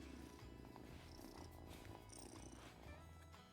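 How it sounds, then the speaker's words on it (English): A black cat in the farming game Wylde Flowers purrs in a low, steady rumbling loop, quiet and continuous, with no voices over it. "Listen to that purr."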